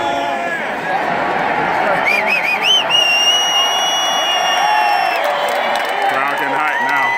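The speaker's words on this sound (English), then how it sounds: "Crowd getting hype now." Stadium crowd at Comerica Park roaring and cheering during a bench-clearing brawl between Miguel Cabrera and Romine, a dense, sustained wash of voices with whistles and shouts, under nearby talk.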